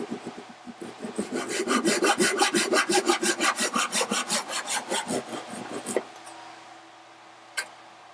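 An eastern-style hand saw cuts through wood in quick, even rhythmic strokes, close and loud, then stops, leaving a quiet room and one light knock.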